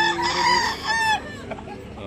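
A rooster crows loudly and close by, one long drawn-out call that breaks off, followed by a few quieter clucks.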